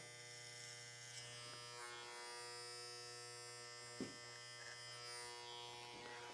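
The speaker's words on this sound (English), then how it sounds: "now here the clipper's struggling a little bit" An electric hair clipper trims a beard, giving a continuous close buzzing drone that strains a little. A couple of brief clicks or bumps break in, and no one speaks.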